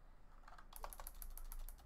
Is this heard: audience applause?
no